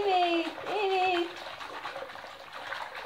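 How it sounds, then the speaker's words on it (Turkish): Water sloshes and trickles steadily as toy dolls are bathed in a child's play tub, with someone speaking over the splashing in the first second. "Çok güzel yıkanıyorlar değil mi Derin?"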